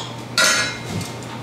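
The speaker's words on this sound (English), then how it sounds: "I'm going to take a small pan," A small metal pan knocks onto a kitchen counter with a single sharp clink, followed by a fainter soft rattle as it settles.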